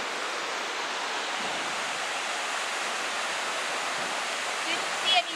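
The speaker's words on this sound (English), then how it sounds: "the waterfall is like gorgeous" A waterfall along the Heaven's Gate Trail pours in a steady, dense roar of falling water, constant and close, with no voices heard over it.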